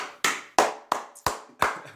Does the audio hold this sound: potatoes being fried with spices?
no